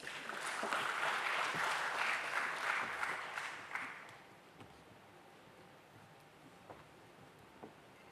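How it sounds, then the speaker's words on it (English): Loud, dense applause from an audience at a stock exchange listing ceremony greets a speaker from Kotak Mahindra Capital, swelling for about four seconds before quickly fading out to a quiet room with a few faint knocks. "Please welcome him with a huge round of applause"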